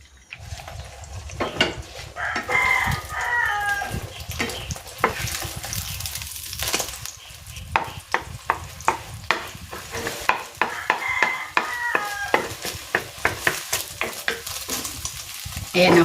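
Two eggs seasoned with salt fry in cooking oil, a steady close sizzle carrying on throughout with repeated sharp clicks and scrapes of a spatula against the pan.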